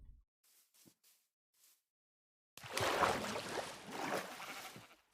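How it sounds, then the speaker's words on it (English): A few quiet sounds are followed by a loud, drawn-out sheep bleat nearby, wavering and nasal, lasting a couple of seconds. "you sheep do not need to stay warm way out here"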